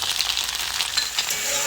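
Cumin, coriander and garlic pastes frying in a pan for a radish and black lentil dal, a loud, close, continuous sizzle without any talk.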